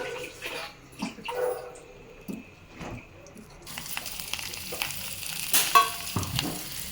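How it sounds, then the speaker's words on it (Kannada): Potatoes frying in a little oil in a pan, giving a hissing sizzle broken by clattering stirs and scrapes, with a brighter, louder frying hiss in the second half, close by and without speech. "ಬಾಂಡ್ಲಿಗೆ ಹಾಕ್ಕೊಂಡು ತುಂಬ ಸಣ್ಣ ಹುರಿಯಲ್ಲಿ ಅದನ್ನು ಫ್ರೈ ಮಾಡಬೇಕು"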